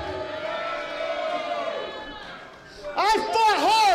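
Crowd noise at a wrestling show, with tonal voices and shouts rising in a burst of cheering near the end, mixed with other sounds.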